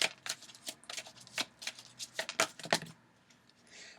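Tarot cards being shuffled and drawn for a love reading, a soft, close run of crisp riffling flicks and slaps in an irregular rhythm, fairly quiet with no talking.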